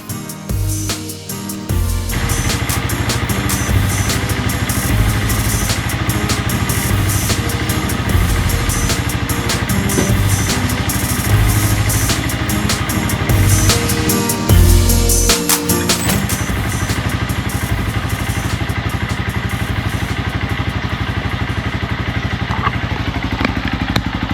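A motorcycle on a mountain road in the Cordillera between Ifugao and Banaue runs continuously at close range, with a steady engine drone, occasional clattering thumps and no talk.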